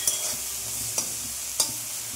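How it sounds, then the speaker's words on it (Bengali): Pond snails fry in a pan with turmeric powder and salt, a steady close sizzle broken by three sharp scraping stirs of a spatula. "ওর মধ্যে দিয়ে দিচ্ছি হলুদ গুঁড়ো, আর দিচ্ছি লবণ। এটা একটু হালকা করে ভেজে নেব।"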